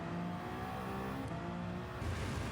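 Toyota GR010 Hybrid hypercar racing against Group C race cars at Le Mans in Gran Turismo 7 on a slippery track, a loud steady engine drone with sustained harmonic tones and a brief rising rev near the end.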